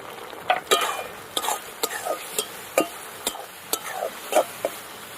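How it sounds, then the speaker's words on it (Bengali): A spoon scrapes and stirs turmeric and coriander powder through sizzling spices in a pan for chili soya, with repeated sharp clinks and scrapes over a faint frying hiss, close by. "মশলা দিয়ে একটু নাড়াচাড়া করে নিতে হবে"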